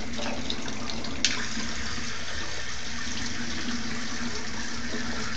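Water runs steadily from a tap during a small child's bath, a constant moderate gush with one brief sharp clink early on and no talk.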